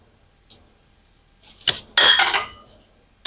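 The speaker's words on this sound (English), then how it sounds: "So we're just stirring it" A utensil stirring carne guisada in a pot, producing a few scattered scrapes and clinks, then one louder, longer scrape near the end.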